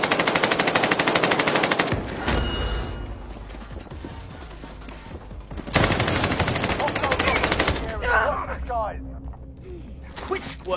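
Sustained automatic gunfire in a Call of Duty Warzone Rebirth Island match: two loud, dense bursts of rapid machine-gun fire, the second starting mid-clip, with clattering effects and voice chatter between them.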